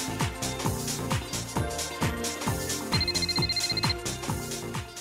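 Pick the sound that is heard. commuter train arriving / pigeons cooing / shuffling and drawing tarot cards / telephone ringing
telephone ringing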